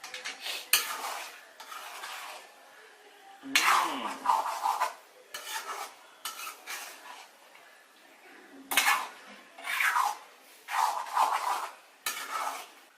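Maggi noodles being mixed with coriander leaves in a pan, heard as bursts of metallic scraping and clinking of utensil against pan, several separate rounds of stirring with pauses in between, close and moderately loud.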